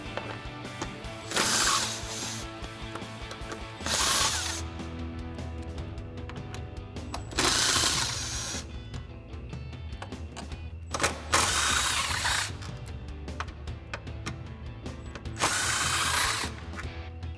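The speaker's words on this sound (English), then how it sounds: "So we'll grab our 12mm socket on our impact and go ahead and pull all these bolts out." An impact wrench fitted with a 12mm socket removes bolts from side step bars on a 2024 Toyota Tacoma, sounding in several loud hammering bursts of a few seconds each, separated by quieter ratcheting and handling sounds.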